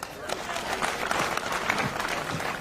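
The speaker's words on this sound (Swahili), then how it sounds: "Mjipigieni makofi." Kenyatta University students applauding at a political meeting: a sustained, even wash of crowd clapping with a murmur of voices, fairly close and filling the whole stretch.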